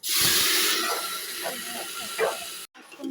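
Cumin and carom seeds hit hot oil with a loud, steady broadband sizzle that dominates the clip, with a brief pause near the end before the frying picks up again; faint speech-like sounds sit underneath.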